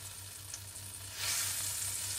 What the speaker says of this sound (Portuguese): Tá fritando e jogou as bananinhas tudo.